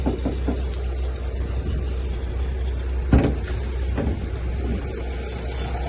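A 2019 Korean car with a 1.6-litre engine idles steadily nearby, a smooth, even hum with one brief knock partway through and no one talking.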